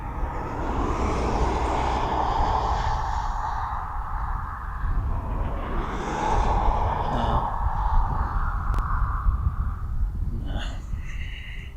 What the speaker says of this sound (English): It's only a little BA Airbus.